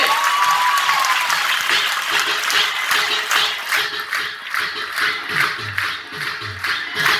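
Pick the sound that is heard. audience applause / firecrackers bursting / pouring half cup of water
audience applause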